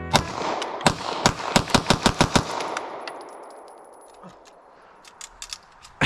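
Rapid bursts of gunfire from an MP5 and AR15 fitted with FRT triggers, a fast run of sharp loud shots in the first seconds followed by fading ringing and a few scattered later shots.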